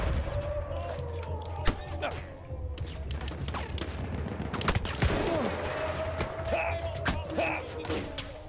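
Gunfire crackles through a Battlefield 1 firefight, a steady spread of sharp shots near and far with a few louder cracks, while a voice speaks over the din.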